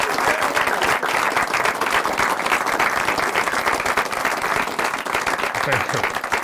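Audience applause after a card trick at a close-up magic performance, loud sustained clapping filling the room for several seconds without a break.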